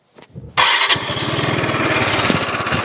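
An FKM Slick 400 motorcycle engine cranks briefly, then catches and roars to life, settling into a loud, steady rumble close by.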